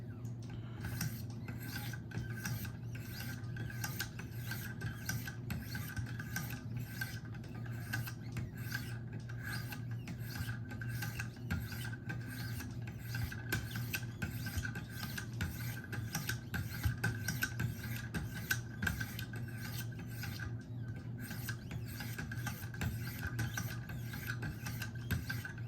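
Steady close rasping of a Spyderco Para 3 knife blade drawn over 1500 and 2200 grit diamond stones on a Wicked Edge sharpener, a continuous rough scraping with a faint hum beneath and no talk.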